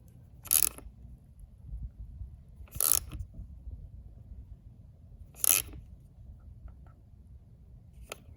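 Three or four sharp ratcheting clicks spaced a few seconds apart as carburetor bolts are tightened on a Stihl FS90R string trimmer, close and crisp over a quiet room hum.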